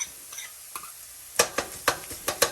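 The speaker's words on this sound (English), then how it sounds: "then you're going to stir this and let it mix for about 1 more minute" Chopped garlic cloves stirred in a hot pan for a mushroom stroganoff, giving a string of sharp scraping clicks over a soft sizzle, close and fairly quiet.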